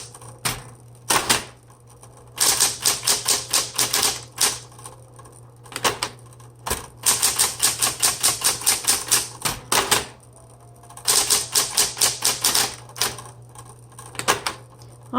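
Rapid bursts of key strikes on a 1970s Smith Corona Electra 210 electric typewriter, coming in clusters separated by short pauses under a steady motor hum, loud and close.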